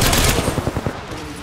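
Automatic gunfire in Apex Legends: a rapid, even burst of shots, loud and close, fired in one continuous string with no voices.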